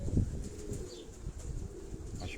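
Pigeons coo softly on a rooftop loft, low burbling calls repeating close by with a brief flutter of wings and a few faint chirps.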